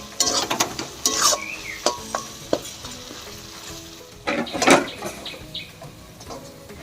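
A spoon scrapes and stirs spice masala sautéing in a pan for Bengali mutton kosha, giving several sharp clacks and scrapes over a light sizzle. A louder burst of stirring comes near the end, close and with no voices.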